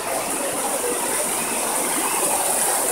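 The Majaceite river near El Bosque, Cádiz, rushes past in a steady, close hiss of flowing water, constant and fairly loud over a few seconds, with no voices.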